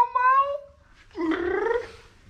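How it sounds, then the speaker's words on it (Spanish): Two drawn-out cat meows in a home, one after another with a short pause between them, fairly close and clear, with no talking over them. "Estos gatos son muy diferentes, Tito."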